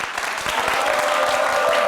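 Audience giving a standing ovation at a lecture hall talk, a short burst of dense, loud clapping from many people, with faint voices mixed in.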